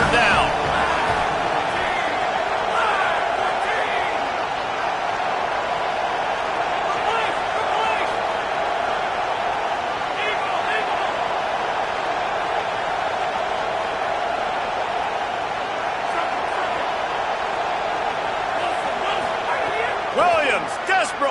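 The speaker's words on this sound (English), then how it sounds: "Decibels rising as the crowd gets behind this defense on third down." A stadium crowd roars steadily and loudly throughout a third-down defensive stand at a college football game, a dense sustained wall of cheering with scattered whoops and claps and no letup.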